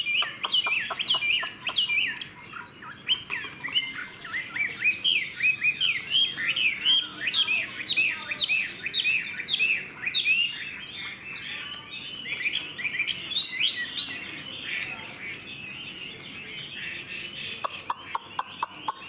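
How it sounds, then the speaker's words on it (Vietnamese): A hwamei songbird with a fanned tail, a tame caged bird, sings continuously nearby in quick, varied bright phrases and trills, a steady stream of melodic calls with few pauses. "Các bác nhìn thấy chim đang đứng hót anh em nhá, rất là đẹp các bác ạ."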